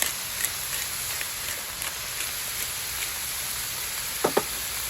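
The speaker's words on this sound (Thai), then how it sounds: "อะแล้วก็คั่วครับ คั่วก่อนนะครับ" Shrimp seasoned with Himalayan salt and pepper stir-fries in a pot, giving a constant soft hiss with faint crackles and a brief scrape near the end.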